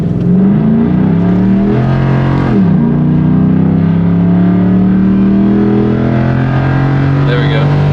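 A truck's engine roars at full throttle close up, pulling hard from about 5 to 70 mph, its pitch climbing through several gear changes with brief dips between shifts.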